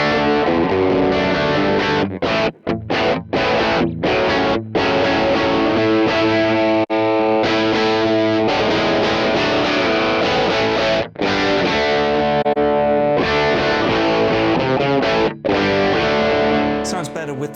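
Heavily distorted electric guitar through a vintage amp modeller with a 4x12 classic cabinet, playing sustained chords and riffs with brief pauses and choppy breaks, loud and dense.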